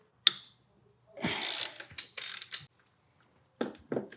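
A ratchet loosens the belt tensioner bolt on a Subaru STI engine: a sharp single click, then several short, close bursts of rapid pawl clicking separated by pauses.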